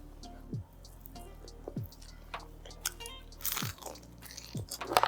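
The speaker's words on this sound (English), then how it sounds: "I feel like I shouldn't talk while I'm eating and chewing" Close, crisp crunching bites and chewing of food, several distinct crunches spread over a few seconds with quiet moist mouth sounds between them and no talking.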